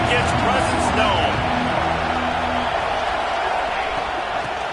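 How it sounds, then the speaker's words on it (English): Football stadium crowd at a Purdue game, a steady, dense roar of fans with some whoops, heard under a broadcast commentator's voice throughout. "This crowd ready to make its presence known."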